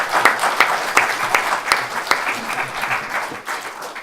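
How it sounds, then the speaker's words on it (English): An audience at a Star Wars Q&A panel at a comic convention claps steadily for a few seconds, a dense burst of applause from a crowded hall. "please give a round of applause for our guests Jimmy B and Paul Blake"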